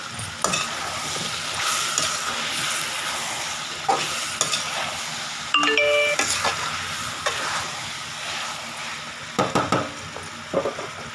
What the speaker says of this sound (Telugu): మునక్కాయలు వేస్తున్నామండి.